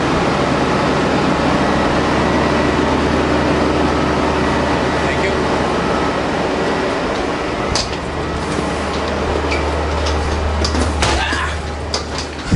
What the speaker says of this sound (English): On the sleeper train now.